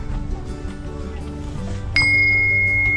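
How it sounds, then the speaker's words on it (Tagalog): A bell at a nature farm and campsite, struck once and ringing on steadily with a bright sustained tone after some quiet background rustle. "So ito yung bell nila, no?"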